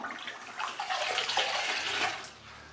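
Running water splashing onto a scrub rag in a workshop, a steady close hiss of flow and wet spatter lasting a few seconds before easing off.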